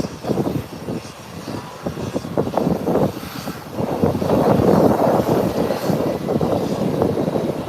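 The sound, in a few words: American Airlines airliner taxiing at airport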